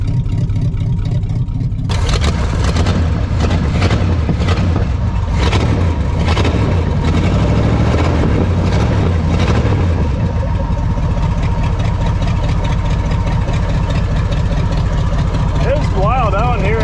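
A 1970 Pontiac Grand Prix with a stuck 360 hp 455 V8, one side of the exhaust still on, runs steadily with a loud, rumbling idle throughout, and voices talk over it.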